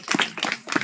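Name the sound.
hands clapping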